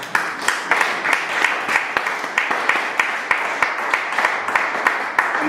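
A church congregation clapping in praise of the Lord during a sermon, rhythmic claps repeating steadily at a moderate pace, loud and close, with no talk over them.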